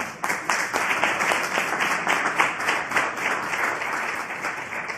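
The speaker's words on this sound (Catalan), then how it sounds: "que feu el favor d'aplaudir-lo" Audience applause at a university library workshop in Girona, a steady, close round of clapping with individual claps audible in an uneven rhythm, continuing for the full five seconds.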